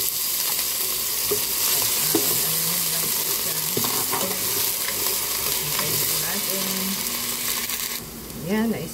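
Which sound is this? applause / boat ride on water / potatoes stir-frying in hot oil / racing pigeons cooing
potatoes stir-frying in hot oil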